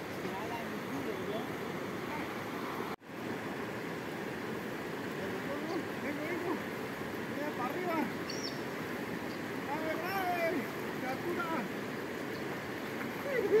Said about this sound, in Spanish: aquí les muestro el río San José del Fragua.